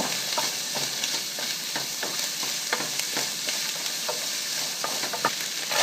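Rice stir-fried with eggs in a hot pan, steady loud sizzling broken by repeated scraping clicks of a spatula tossing the grains, close and without talk.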